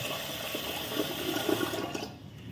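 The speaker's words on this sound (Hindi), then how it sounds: "में डालना है पानी" Running water pours into a pot of rice for washing in a home kitchen, a steady splashing stream lasting a couple of seconds before tapering off.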